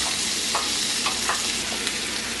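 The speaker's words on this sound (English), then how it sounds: "And you're going to go ahead fry the onions in this." Steady, loud sizzling of onions frying in hot oil, a constant crackling hiss with occasional soft stirring scrapes.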